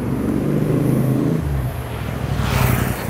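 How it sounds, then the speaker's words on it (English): Cars passing along a Bangkok street, a steady close engine rumble from traffic that eases, then swells again as another vehicle rushes by. "The cars are passing."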